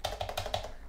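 Typing on the keyboard of a Toshiba Satellite 110CS laptop: several quick, close plastic key clicks in an uneven rhythm, fairly quiet and alone.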